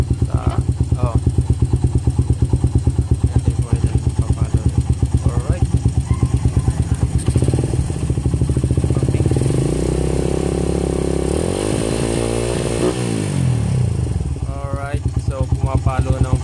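A Suzuki Raider 150 motorcycle being checked for a charging fault idles with a steady, throbbing putter, then revs up and falls back partway through, loud and close with no talk over it.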